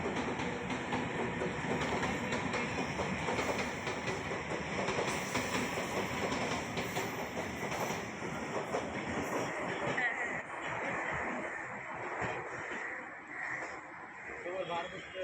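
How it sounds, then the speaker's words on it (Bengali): A train passes along railway tracks with a continuous loud rumble and rhythmic wheel clatter that lasts throughout, slowly easing toward the end, while people talk over it. "আর এই যে ট্রেন যাচ্ছে"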